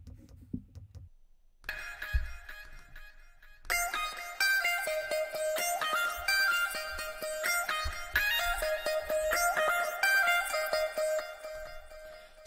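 Second synth melody from a dance chorus, heard solo: a bright, sidechain-pumped line of repeated pluck notes enters after a brief quiet low pulse, swelling and ducking rhythmically for the rest of the passage.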